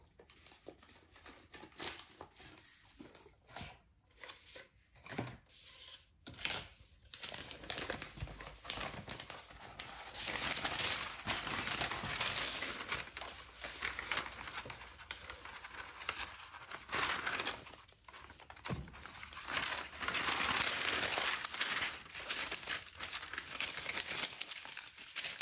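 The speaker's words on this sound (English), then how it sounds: "I'll also get my butcher paper and put" Butcher paper crinkles and rustles as it is laid over an infusible ink Cricut design on a tote bag, a long stretch of close, steady paper crumpling with brief pauses and no speech.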